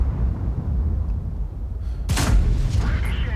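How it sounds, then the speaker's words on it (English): An HE shell fired at a tank in World of Tanks lands as one sudden, heavy boom with a decaying rumble, over a constant low engine drone and faint voice. "The Waffle fired that HE shell into him."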